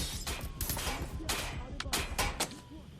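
Rapid bursts of gunfire in the video game Watch Dogs Legion, several sharp volleys spread across the clip over a busy game backdrop with a voice talking underneath.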